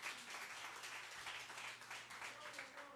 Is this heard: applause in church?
yes